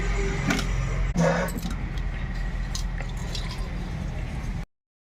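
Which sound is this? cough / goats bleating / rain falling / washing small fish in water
washing small fish in water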